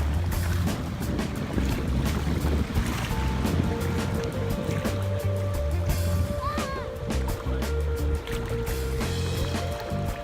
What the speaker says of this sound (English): So, we're live at the beach.